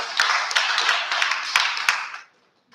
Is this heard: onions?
no